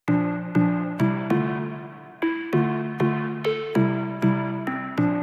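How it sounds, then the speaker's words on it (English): Plucked synth melody for an Afro dancehall beat, short bright notes struck in a steady rhythm about twice a second, each decaying quickly, stepping through simple chord tones, clean and alone with no voices. "I'm just going to play what the plucks by itself sounds like"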